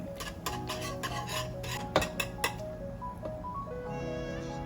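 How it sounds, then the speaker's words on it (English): Green plantain porridge is whisked in a pot, giving rapid metallic clinks and scrapes of the whisk against the pot that come in bursts, then a steadier ringing clatter, close by with no speech. "So you just have to always just keep whisking, keep whisking, keep whisking."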